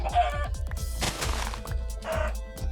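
Chickens in Minecraft clucking in quick repeated bursts, close and fairly loud, with short squawky calls rising over the pecking rhythm and no talk.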